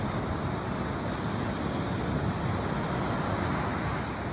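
Ocean surf at the water's edge rushes and hisses in a steady, dense wash, loud and close, with wind mixed in and no voices.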